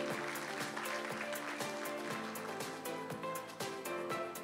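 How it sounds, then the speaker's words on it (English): Audience applause at a university research congress, a sustained wash of clapping with music under it. The music has a steady beat and held tones. "Another round of applause,"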